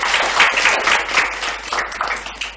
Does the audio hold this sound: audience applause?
yes